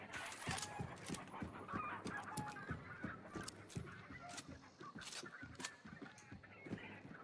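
Chickens and other fowl cluck and squawk in a farmyard within the video game Hunt: Showdown, a dense, steady run of clipped calls close by, with no talk over them.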